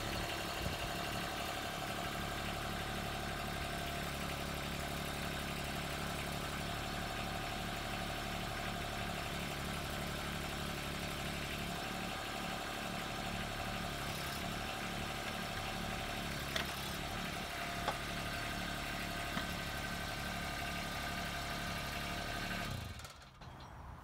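A Toro Dingo TX 1000 compact utility loader fitted with a Ryan's Equipment 4252 grapple runs steadily and close while the grapple is rotated. The engine drones with a throbbing pulse, then cuts off abruptly near the end.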